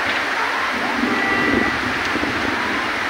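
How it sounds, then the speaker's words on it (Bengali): Steady broadband wind and rain roar during a sudden storm, with the lights out at home, continuous and fairly loud with slight gusting swells and no speech. "আর এখন কিন্তু বাতাস ছেড়েছে"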